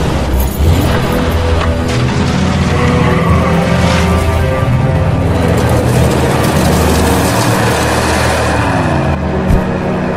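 A car screeches off with tires skidding in a tense movie escape scene, a loud sustained squeal layered over a revving engine roar that persists for the whole stretch.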